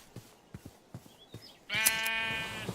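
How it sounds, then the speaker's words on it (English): Sheep are sheared in a video game; a series of soft rhythmic clip sounds is followed by a loud, close, harmonic sheep bleat lasting about a second. "let's go shear some sheep"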